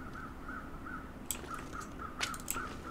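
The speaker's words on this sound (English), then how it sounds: "Is that crows flying or just crows?" Several crows caw in a snowy wilderness in the survival game The Long Dark, a few harsh calls spaced across the clip over a steady ambient hum.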